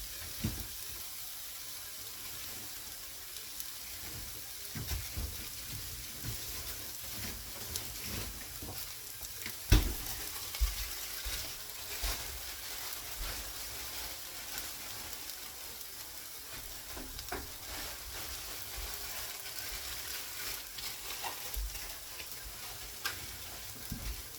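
Egg and ham frying in a pan with mushroom, potato and onion, a faint steady sizzle with light scattered ticks and one louder clatter partway through, no talking.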